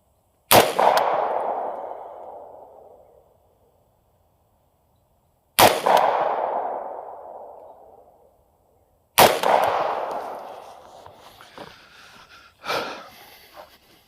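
Three loud, sharp AR-15 rifle shots fired at a 100-yard target outdoors, each a single crack trailing into a long fading echo, spaced several seconds apart, with faint clanking and handling noise near the end.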